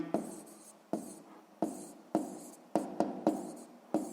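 A pen writes out a sixth-grade math problem on paper in about eight short scratchy strokes, each a sharp close scrape that fades before the next, with a quiet room between them.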